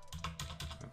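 Rapid clicking keystrokes on a computer keyboard as a perf record command is typed in a terminal, several quick close taps in an uneven rhythm with no talk.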